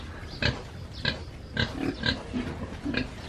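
Farm pigs grunt in a series of short, close snorts spaced roughly half a second apart, with no talk over them.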